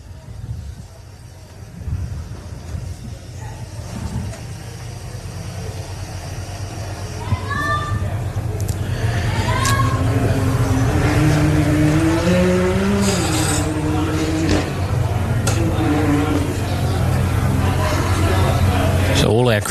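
4x4 off-road race cars roaring around a lap at the Loveday 4x4 Adventure Park during the Loveday 400, engines rising and revving loud and continuous, with a commentator talking over the noise.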